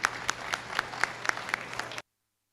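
At a county goat show, a small crowd around the ring gives a round of applause. The scattered claps rise and fall rhythmically for about two seconds, then stop abruptly into silence.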